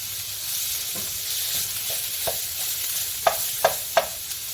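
Ground beef sizzles steadily in a hot pan as a utensil stirs it, with several sharp scraping clicks near the end and no talking.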